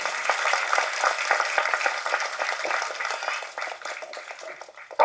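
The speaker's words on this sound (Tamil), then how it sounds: "ஸோ எல்லாரும் ஒரு பெரிய கைத்தட்டு தட்டுங்க நம்ம தயாரிப்பாளருக்கு" An audience at a film audio launch for Lubber Pandhu applauds the producer, a dense, steady crackle of many hands clapping that fades slightly near the end.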